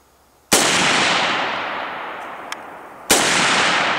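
Two loud, sharp AK-47 rifle shots fired at targets outdoors, a few seconds apart, each cracking hard and trailing off in a long fading echo.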